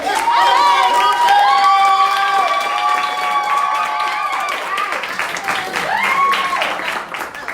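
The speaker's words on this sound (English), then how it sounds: "give her a thunderous round of applause" An audience at a Houston training event applauds and cheers, a loud, sustained crowd roar with whoops and shouts over steady clapping, and background music tones running underneath.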